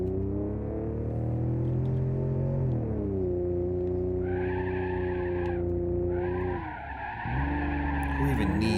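A car in the BeamNG driving game rolls on four flat tires, producing a sustained, droning engine tone with squealing, scraping tire noise that shifts pitch as it moves.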